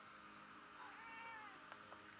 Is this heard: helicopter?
no